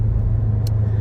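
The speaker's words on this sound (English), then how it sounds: "Now there's some exhaust note out of it." A Corvette's exhaust rumbles deep and steady while driving in a low gear, a loud continuous drone heard from inside the car with no talking.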